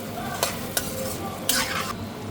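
Butter, onion and chopped tomato stirred in a frying pan: a steady sizzle with a few sharp spoon scrapes and one longer stirring sweep, close and alone.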